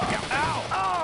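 Gunfire in the Deer Avenger II video game, quick overlapping bursts of shots and booms packed into about a second, loud and close, with a voice mixed in.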